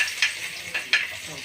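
Garlic sautéing in a hot pan, a brief bright hiss with a couple of quick stirring scrapes, close up.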